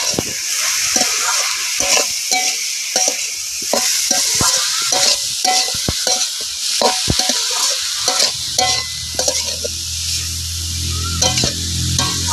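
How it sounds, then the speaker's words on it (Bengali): Shredded cabbage with a little turmeric powder is stirred in a pan over low heat for a Bengali vegetarian cabbage fry, with steady close sizzling and a run of quick scraping spatula strokes, and no one speaking. "আর দেবো অল্প পরিমাণে হলুদ গুঁড়ো, একটা নেড়ে চেড়ে নেব"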